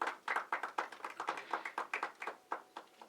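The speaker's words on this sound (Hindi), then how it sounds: "तालियां जोरदार हो जाए हमारे स्पेशल गेस्ट के लिए" Audience clapping at a film trailer launch event as a guest is welcomed on stage: a modest, fairly close scatter of individual hand claps in uneven rhythm, quiet overall, with no speech.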